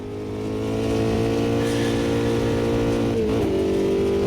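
Formula Dirt off-road car in the racing game Automobilista 2, its engine droning steadily at high revs with layered harmonics, a brief pitch wobble near the end as it shifts or bumps, loud and continuous throughout.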